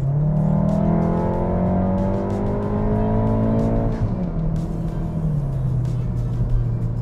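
A car accelerating hard at over half throttle, engine pitch climbing steadily through the gears with one clear shift, loud and close throughout, then settling into a steadier drone.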